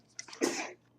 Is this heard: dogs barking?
no